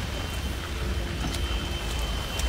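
Steady rain hiss falls continuously with scattered drops, an even wash of noise with no voices.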